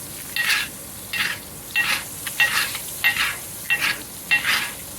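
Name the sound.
basting arctic char and scallops in a sizzling pan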